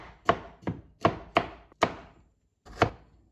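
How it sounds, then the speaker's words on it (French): A knife chops broccoli into small pieces on a board with six sharp, evenly spaced thuds about every third of a second, close and clear, with no voices. "En attendant, on les coupe en petits morceaux."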